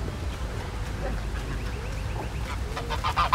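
Canada geese honk in repeated calls over steady outdoor background noise on a hike, growing louder and more clustered toward the end.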